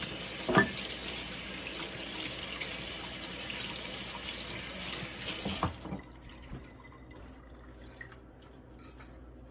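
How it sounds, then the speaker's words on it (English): Mixer beaters are rinsed under a running kitchen tap while making sugar cookie dough, a steady hiss of gushing water for about six seconds that then cuts off, leaving faint drips and clinks. "wash your mixer beaters"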